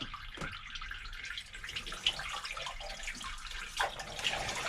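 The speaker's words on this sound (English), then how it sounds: "So the water is on," Water runs from a hose pipe into a pump, giving a steady hissing flow with a few splashes and drips, fairly quiet and continuous with no talking.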